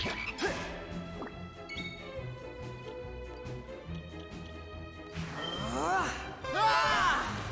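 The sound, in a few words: Toadies frog enemies croaking in the video game Dragon Quest 7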